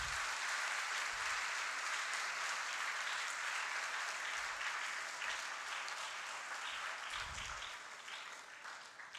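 An audience at an Independence Day address at an academy claps in a full, steady round of applause that carries at moderate loudness and eases off slightly toward the end.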